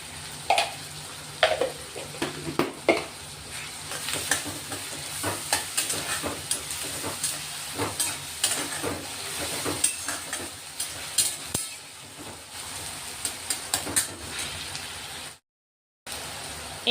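Chopped onions fry in hot oil with salt and asafoetida for a mung bean usal, giving a steady close sizzle broken by stirring scrapes against the pan, then a brief gap of silence near the end.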